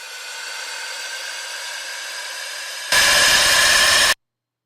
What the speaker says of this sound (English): You can see white noise, very, very loud